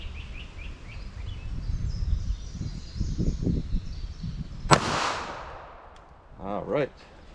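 .380 ACP Hornady Critical Defense round fired into ballistics gel outdoors, a single sharp loud crack midway that rings out and decays, with low rumbling handling noise and faint birdsong before it.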